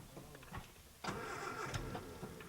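A car engine cranks and catches about a second in, then settles into a low, steady running hum at modest loudness, with faint background knocks before it.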